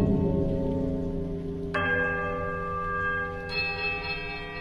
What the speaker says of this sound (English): The bell's merry tolling sounds once more through the ruins.